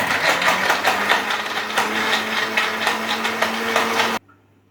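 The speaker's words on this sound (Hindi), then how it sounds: "अब इसको भी हम अच्छा सा ब्लेंड करेंगे" A blender mixing milk and ice cream runs steadily with a churning whir and a rising motor hum, loud and close, then cuts off abruptly near the end.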